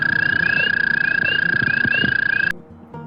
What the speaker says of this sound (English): American toad.